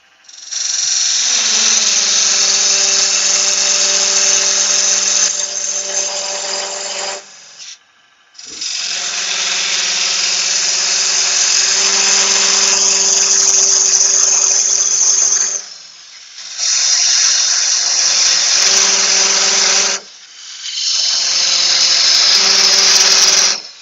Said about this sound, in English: Using a fine parting tool, part down the first mark